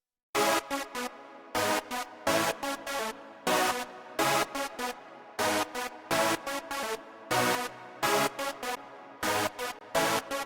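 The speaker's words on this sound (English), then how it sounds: "I think this saw is from Serum" A bright, buzzy sawtooth synth from the Serum plugin plays short rhythmic chord stabs in a repeating pattern, with clean gaps between hits and no voices.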